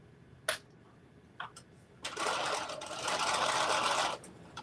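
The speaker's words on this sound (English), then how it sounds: "just sit down at the sewing machine and just sew them all up" Sewing machine stitching a fleece winter headband, with a few short taps and starts before a steady whirring run of about two seconds that then stops.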